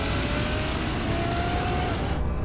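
A Mercedes SLR McLaren, Ferrari GTC4 or Aston Martin DBS accelerating hard in third gear from 80 km/h in a drag race: a loud, steady engine roar with dense road and wind noise and a slowly rising engine tone.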